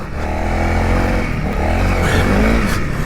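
A Honda CRF300L motorcycle rides steadily at close range, its engine droning with harmonic hum throughout, rising slightly in pitch partway through as it pulls along, with no talk.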